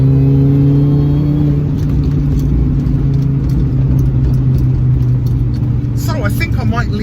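An R53 Mini Cooper S engine droning steadily while driving on wet roads, a loud continuous cabin rumble with mild revving and some higher whine near the end.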